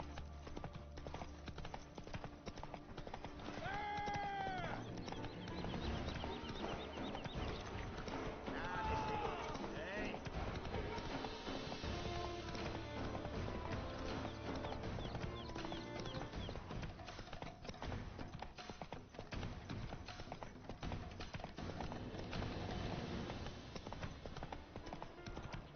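Hooves of a galloping horse in the video game The Witcher clip-clop in a steady, fast rhythm throughout, with someone talking over them in French and brief game sounds in the background.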